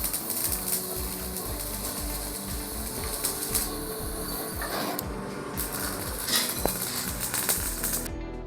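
Welding of the internal pipe of a TVS Apache RTR 200 motorcycle silencer, a continuous crackling, buzzing arc with rapid irregular pulses, close and fairly steady, ending abruptly.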